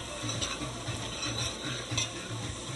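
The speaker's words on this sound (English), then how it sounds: "and then I throw the meat." Meat hits a pot of curry seasoning that has cooked down until sticking, producing a steady close sizzle with rhythmic stirring scrapes throughout.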